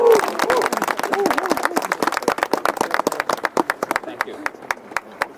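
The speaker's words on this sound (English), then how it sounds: "Please welcome with a great round of applause" Audience applause at a flag raising ceremony marking the 100th anniversary of the March 1st Movement, a dense burst of many hands clapping that thins into scattered, sharper claps as it fades out.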